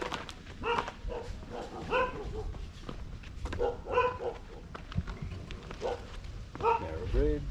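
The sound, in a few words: dog barking in Bang Krachao, Thailand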